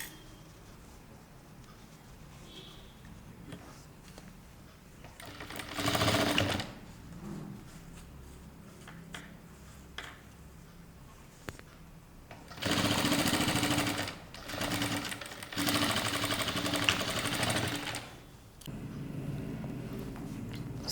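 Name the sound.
sewing machine stitching a waistband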